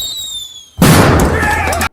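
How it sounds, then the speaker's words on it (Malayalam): Firecrackers set off as a temple offering: a sudden, loud, dense burst of crackling blasts lasting about a second, then cut off abruptly. "ആദ്യം നമുക്ക് ഒരു വെടിവഴിപാട് കഴിഞ്ഞിട്ട് പോകാം"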